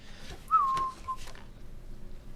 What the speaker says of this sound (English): even you're whistling the tune